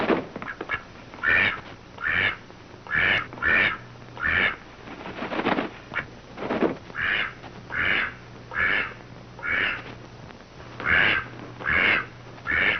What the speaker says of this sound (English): What happens to the duck?